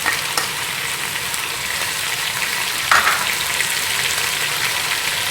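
Ginger garlic paste and crushed green chillies fry in hot oil with a steady close sizzle, broken by light stirring scrapes. A brief louder crackle comes partway through.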